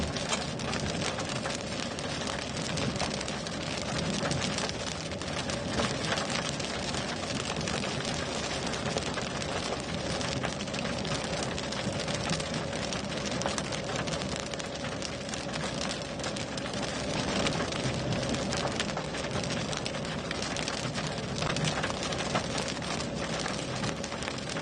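Hail and heavy rain pound steadily during an Oklahoma storm chase, a dense, unbroken roar of hard impacts that holds at constant loudness throughout, with no voices.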